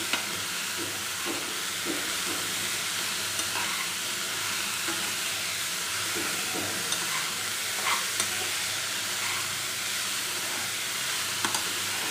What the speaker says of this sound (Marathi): आणि ही स्वच्छ धुतलेली मेथी याच्यामध्ये टाकायची आहे.